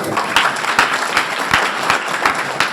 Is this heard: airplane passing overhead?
no